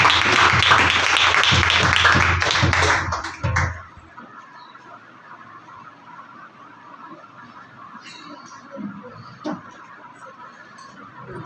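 A church congregation breaks into loud, dense applause to welcome a preacher at a night service. The clapping stops abruptly after a few seconds, leaving faint room noise and a few scattered sounds.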